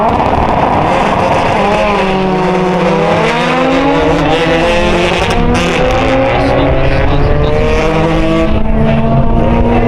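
At a Honda event drag strip, a Honda car launches on a time trial with a loud, close engine roar that climbs through the revs in rising sweeps, and the tires chirp along the way.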